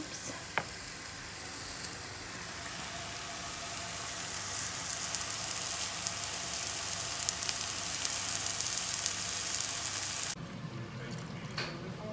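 Food fries in a pan with a constant, bright sizzle that carries on evenly for about ten seconds and then drops away abruptly.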